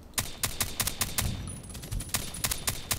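Rapid suppressed shots from a VSS Vintorez rifle in a shooter game, about a dozen sharp cracks in quick uneven bursts, close and loud with no talking.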